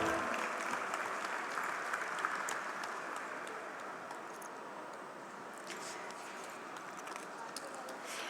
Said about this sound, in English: round of applause for our awardee, Mr. J.J. Bhagat